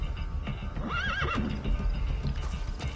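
A horse in Metal Gear Solid V gives a clear, wavering whinny over a steady clip-clop of hooves and faint game background sound.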